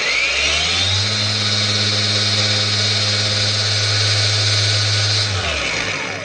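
A Kyoal cordless angle grinder spins steadily at its second speed setting, a loud sustained high whine with a droning motor hum that winds down at the end, with no voices.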